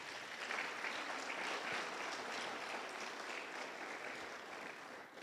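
Congregation applauding in a church service, a steady, even wash of many hands clapping at moderate distance for several seconds without a break.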